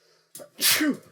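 A single close, sharp human sneeze with a brief breathy intake just before it and a loud burst, heard alone.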